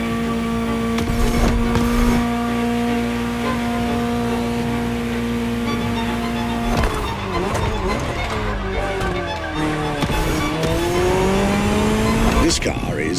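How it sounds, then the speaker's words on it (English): A Ferrari 250 GTO roars through The Crew Motorfest, its engine droning steadily then shifting and rising in pitch with tires squealing through corners, loud and continuous, while a voice talks over it. "just enjoy the collector's piece that is the Gran Turismo Omologato"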